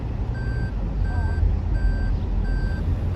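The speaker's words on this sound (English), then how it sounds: "You hear that sound because the trunk is open." A car's warning chime for an open trunk repeats steadily as evenly spaced beeps, four in a row, over loud low engine rumble inside the vehicle.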